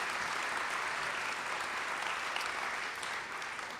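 Applause from an audience at an awards luncheon, a sustained, even wash of many hands clapping that holds steady and thins slightly toward the end.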